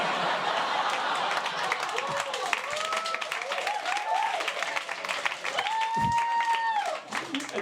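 Comedy club audience at a stand-up set, a crowd clapping and chuckling amid laughter while the comedian keeps talking over it, the applause swelling and fading around her voice.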